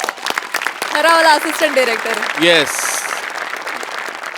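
Studio audience applause on a Marathi comedy stage show, a steady wash of clapping running under a host's loud talking for the whole stretch.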